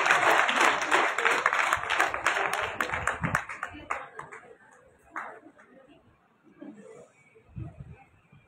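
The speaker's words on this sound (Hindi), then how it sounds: "एक बार जोरदार ताली होनी चाहिए गंगा जी के लिए." At an International Women's Day celebration at a hotel in Mount Abu, a crowd gives a guest on stage a burst of loud applause that fades into scattered claps and murmuring voices.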